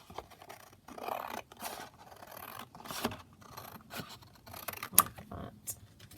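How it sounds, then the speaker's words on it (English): Scissors snip and slice through craft card along a drawn black line while a scrappack pocket is made, a close series of short crisp cuts and scraping strokes, with soft rustling of paper between snips. "So I'm just going to cut along this black line."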